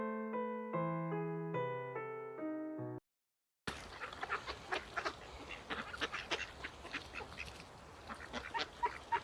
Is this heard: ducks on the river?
yes